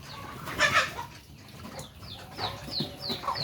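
A hen clucks close by in short, repeated bursts, with quick throaty calls scattered across a few seconds and no talk.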